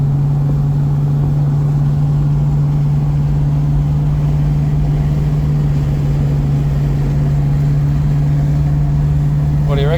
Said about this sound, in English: The V8 suits her lead foot a lot better than the 4-cylinder